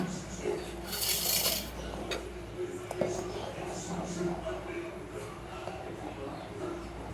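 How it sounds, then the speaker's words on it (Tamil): Semolina payasam is stirred in a metal pot, soft scraping and occasional spoon clinks close by, with a quiet voice in the background. "கைவிடாமல் கிண்டணும்."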